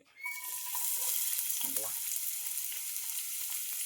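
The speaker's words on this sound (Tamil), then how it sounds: "ஒரு சின்ன சைஸ் வெங்காயத்தை நறுக்கி வச்சிருக்கேன் அதை வந்து இந்த எண்ணெயில் போட்டு ஆட் பண்ணி வறுத்து" A chopped small onion frying in hot oil for a prawn dish sizzles loudly and steadily, with a brief scraping stir partway through.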